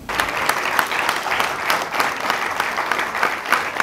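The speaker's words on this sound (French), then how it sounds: "Je demande aux parents de s'élever aussi pour être applaudis." A crowd applauds the parents of baccalaureate graduates at a school prize-giving ceremony, continuous loud clapping from many hands, steady and close throughout.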